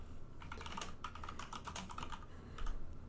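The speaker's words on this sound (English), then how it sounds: "1 second, I'm typing one thing." Rapid typing on a computer keyboard, a steady patter of soft key clicks close by with a slightly heavier burst near the end, no talking.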